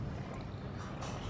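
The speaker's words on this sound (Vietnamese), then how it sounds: "chiếc ghe lưới vẫn đang tiếp tục tăng tốc khá là nhanh, chạy với một tốc độ rất là cao các bạn" A Bình Định fishing net boat, number 9464, speeds along at night, its engine a steady low rumble under continuous wind and water noise, with no voices.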